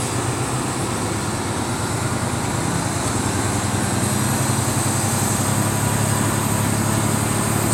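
A tractor trailer truck's engine drones loud and steady as the rig pulls away, a dense continuous rumble with broad road and wind noise filling the whole stretch.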